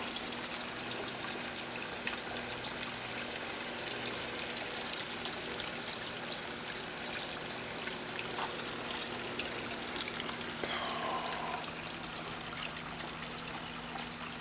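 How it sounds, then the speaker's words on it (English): A small garden water feature trickles steadily outdoors, a continuous soft wash of running water with a low hum underneath and no talking. "we have a little water feature"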